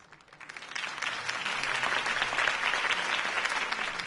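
Applause from a crowd in the Batman Telltale Series video game, following Harvey Dent's campaign speech, builds within the first second and then holds steady and dense without any talk.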